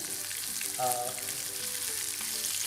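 Food fries in hot oil in a kitchen during Japanese-style cooking, a steady soft sizzle with faint crackles throughout, fairly quiet and close, with no talking.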